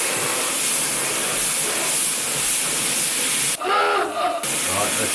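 A hose pipe pours water into a Fluval Flex 123 L aquarium, giving a steady, loud, close rushing hiss that briefly changes in tone near the end.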